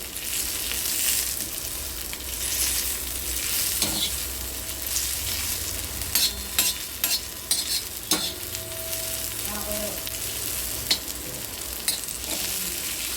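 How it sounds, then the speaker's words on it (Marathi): Cluster beans (gavar) sizzle steadily in a pan while a spoon stirs and scrapes them, with occasional sharp clinks against the pan over the continuous frying hiss. "आपले गवार भाजून होते"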